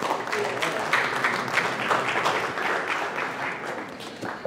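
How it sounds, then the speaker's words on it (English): A seminar audience applauds two presenters with moderately loud, sustained clapping that fades a little toward the end, with faint voices mixed in. "How about a round of applause for DG and Honora?"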